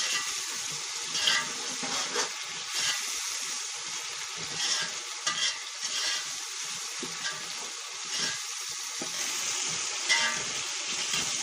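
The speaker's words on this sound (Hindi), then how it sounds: "अब हम इसको 5-10 मिनट के लिए भूनेंगे और मसाले बाद में डालेंगे।" Chana pulao frying in a pan gives a steady, continuous sizzle with soft crackles and small swells, moderately loud, with no voices.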